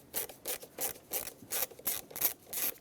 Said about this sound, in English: use a Phillips head screwdriver and remove the two screws that hold this on